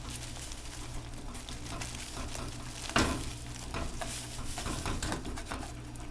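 Flour and sugar stirred steadily into liquid just coming to a boil for a sweet ring bread dough, a continuous scraping, bubbling sizzle with one sharp knock of the utensil midway, close and fairly loud.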